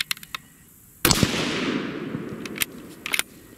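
A rifle fires a single loud, close shot of Hornady 174-grain ELD-VT bullets. The sharp crack rolls into a long, booming echo that fades over about two seconds, with a few faint clicks before and after.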